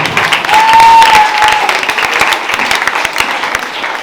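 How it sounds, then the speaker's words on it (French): Applause from an audience at a school event, a steady dense wash of clapping across the whole stretch, loud and near, with a brief sustained tone near the start. "On acclame."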